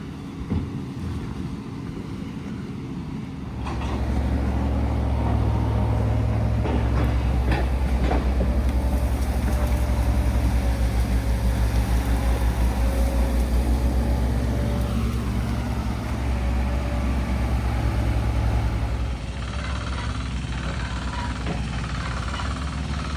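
A water pump labours to drain a pond during restoration work, giving a steady mechanical drone that starts a few seconds in, runs strongly and evenly, then eases off near the end over faint outdoor background.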